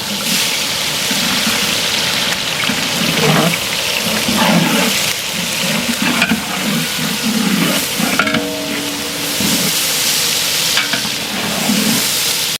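Steady loud sizzling and crackling of onions frying in a pot for wedding-style mutton biryani, with occasional scraping stirs and a voice briefly heard in the background.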